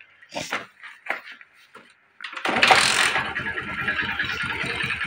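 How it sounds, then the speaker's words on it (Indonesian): A few short sputtering bursts, a pause, then a Yamaha Jupiter MX motorcycle engine, repaired after losing ignition, catches and settles into a steady close idle. "Nah, motor ini langsung hidup ya."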